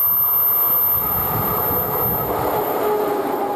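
A two-part Slovak E479-1 electric locomotive passes close and loud, a continuous heavy rumble with wheel clatter and a brief high squeal, no talk.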